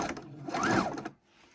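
Home sewing machine stitching apron fabric in a single short run of about one second, loud and close, with a rising and falling whir that cuts off abruptly into near silence.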